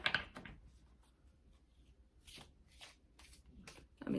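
Tarot cards are shuffled by hand, soft quick riffles and light slaps in short bursts, quiet and close, with no talking.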